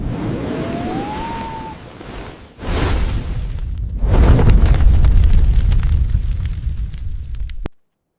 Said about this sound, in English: Another common attack in most Final Fantasy games is a bomb's Self-Destruct that you see here.